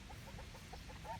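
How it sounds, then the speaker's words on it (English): Tame quail give soft, quick clucking calls in a rapid, faint, close run of short chirps, ending on a slightly louder note. "These are very tame quail."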